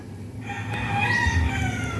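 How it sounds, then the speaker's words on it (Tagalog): Native chickens on a farm in Catarman, Northern Samar, with a rooster crowing nearby over a low background of clucking and ambient noise. "Ito ng native chicken"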